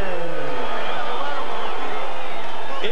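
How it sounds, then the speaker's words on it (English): Boxing arena crowd reacting to the judges' decision after the Christy Martin vs Belinda Laracuente fight, a dense, steady roar of many voices with murmuring and shouts throughout, no single voice standing out. "And you hear the reaction of the crowd"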